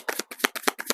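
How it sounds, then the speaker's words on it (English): Cosmic Cycles Tarot cards are shuffled in quick bursts, giving four or five crisp riffling flutters close up with tiny gaps between them. "I'm going to get some cards from the Cosmic Cycles Tarot."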